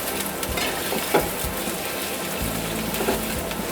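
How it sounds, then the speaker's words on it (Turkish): Carrots and two spoonfuls of tomato paste fry in a pot with onions for a green lentil stew, giving a steady close sizzle with occasional stirring scrapes and no talking. "havuçlarımızı ilave ediyoruz. 2 yemek kaşığı salçamızı da kavurup"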